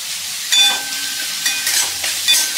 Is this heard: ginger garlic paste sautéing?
yes